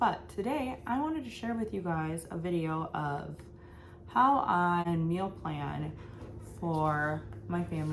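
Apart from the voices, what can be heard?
None of the usual background noises is heard.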